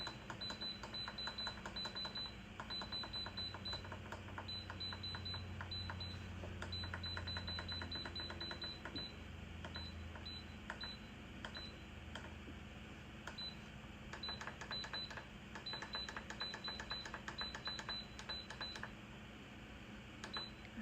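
An Instant Pot being set up as an air fryer gives a series of short, sharp electronic beeps in irregular clusters over a low kitchen hum, fairly faint, with no talking.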